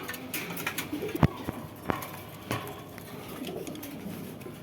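Pakistani Giribaz pigeons coo softly at a bird seller's stall, with a few sharp knocks and shuffles breaking through a steady low murmur of background noise.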